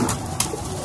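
Pigeons at a pigeon club loft coo close by, with a couple of short fluttering bursts, as of wings, over a steady soft background.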